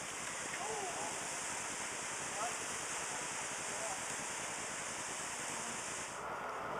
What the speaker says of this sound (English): To check out the sound of the rushing water behind these louvers.